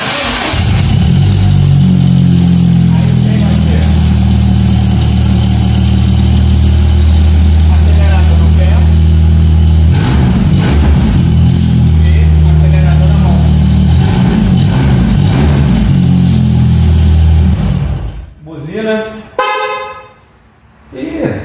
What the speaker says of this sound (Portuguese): Então aqui a gente liga a injeção e ligou o triciclo.